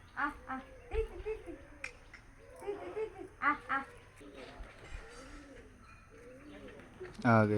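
Pigeons coo in a series of soft, repeated throaty calls at close range, interleaved with people talking, and a louder burst comes near the end.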